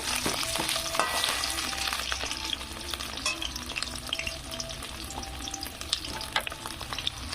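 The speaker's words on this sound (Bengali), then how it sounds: "এইভাবে কিন্তু খুব সুন্দর করে কিন্তু আলুগুলো ভেজে নিতে হবে" Small new potatoes crackle and sizzle in hot oil, a dense steady frying sound with occasional scraping and stirring clicks, close and continuous.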